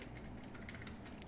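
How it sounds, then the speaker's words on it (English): Fingers tap briefly on a computer keyboard, a short burst of soft, close keystrokes with one sharper click near the end. "Then I'm going to type like Android"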